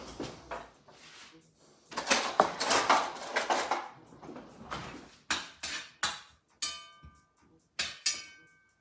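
Onions are stirred in a cast-iron style cooking pot with oil, giving a run of scraping, clattering utensil-on-metal strokes. These are followed by several sharp separate knocks and clinks, close and fairly loud.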